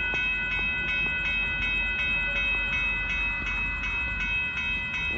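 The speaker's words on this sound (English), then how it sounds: "62 and 58 coming in. Amtrak taking the siding." Amtrak Texas Eagle passenger train rolling into a siding at night, a steady, moderately loud rumble with rhythmic wheel clicks repeating throughout, heard from trackside.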